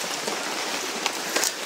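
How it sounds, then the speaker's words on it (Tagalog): Steady rain falls outdoors as a dense, even hiss, with a couple of brief louder splashes standing out near the end. "Ulan-ulan biya."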